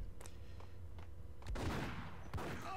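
Faint, sparse gunshots from the video game Max Payne: a few soft, distant pops followed by a louder burst of several quick shots near the end, over a low steady background hum.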